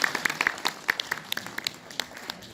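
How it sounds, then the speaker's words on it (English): Audience applause at a question-and-answer session, moderate clapping from a modest group with distinct individual claps standing out, fairly close and steady. "Give it a round of applause for that."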